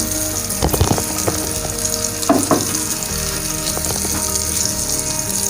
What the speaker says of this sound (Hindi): तमाम मिक्सचर मैंने ऑमलेट का इसमें ऐड कर दिया है